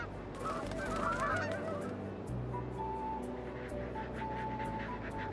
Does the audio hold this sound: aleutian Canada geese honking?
yes